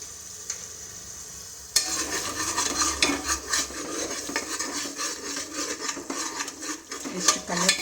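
Garlic ginger paste stirred into soya chunk biryani frying in a pan, giving a steady sizzle with repeated scraping and clinking of a spoon against the pan, close and moderately loud.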